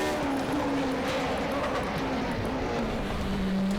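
A race car in the Raceroom sim at Shanghai brakes hard and deep into a corner, its engine note loud and sustained with a tone that shifts downward as it slows; no voice is heard.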